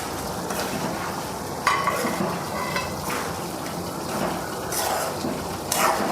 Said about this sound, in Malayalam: ഈ പപ്പടം കൂടി നമുക്ക് ഇട്ട് കൊടുക്കാം